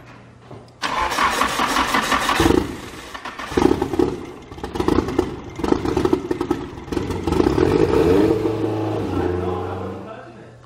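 A small engine cranks and catches, then runs unevenly as the throttle is worked, revving up and dropping back in several surges with clattering mechanical noise and people talking over it.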